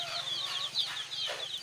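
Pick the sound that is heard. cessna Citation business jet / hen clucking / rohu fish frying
hen clucking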